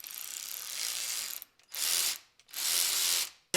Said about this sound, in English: Whenever the hose clamp tightens, it's almost never crooked.